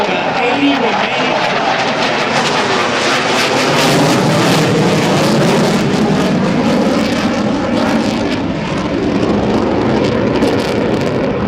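A QF-4E Phantom jet roars loudly and continuously at an air show, a dense broadband blast with an announcer talking over it.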